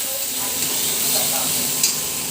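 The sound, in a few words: dry red chilli frying with vegetables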